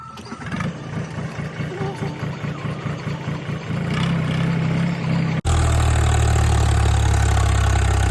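A farm tractor engine idles close by, first a rhythmic chugging putter, then a louder, heavier steady rumble after a brief break, with voices talking over it.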